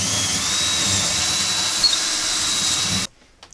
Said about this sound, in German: Bohren wir in den Boden ein